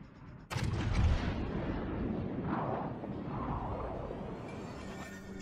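The Yamato battleship's main guns fire a salvo in World of Warships Legends: one sudden heavy boom followed by a long, deep rumbling roll that slowly fades.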